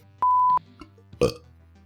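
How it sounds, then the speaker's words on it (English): A single short burp lands near the end, brief and close, following a steady electronic beep and a few small clicks in an otherwise quiet room. "You better cut out that burp."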